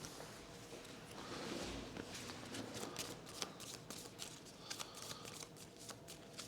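Board game cards for Defenders of the Wild are shuffled by hand in quick repeated riffles and soft slaps, close up and fairly quiet, with no talk.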